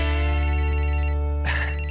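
Phone ringtone ringing loudly and continuously, a bright synthetic melody with a steady tonal pattern that briefly shifts partway through, with no voices.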